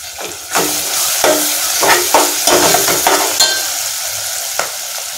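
Ginger garlic paste and garam masala frying for prawn biryani, a loud close sizzle with repeated scraping stirs of a spoon against the pan.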